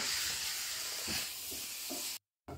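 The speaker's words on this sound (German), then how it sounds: "So, der Bratprozess schreitet voran." Chicken, mushrooms, onions and garlic fry in a pan with a steady, close hissing sizzle and a few soft clinks, broken by a brief dropout near the end.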